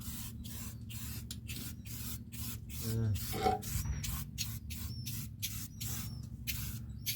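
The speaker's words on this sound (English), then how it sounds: "Yeah, you can spray it." Rapid bursts of aerosol spray hissing in short repeated pulses, close up, coating a car's underside against surface rust, with some rubbing and shuffling in between.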